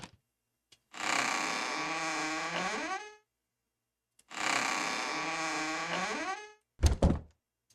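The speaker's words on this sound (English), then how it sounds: "so the door opening sound worked just fine" Door-opening sound effect in a game under development: two sustained, sweeping tonal swells of about two seconds each, separated by silence, followed by a short double thud near the end.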